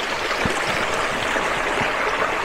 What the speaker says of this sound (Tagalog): Maingay yung tubig.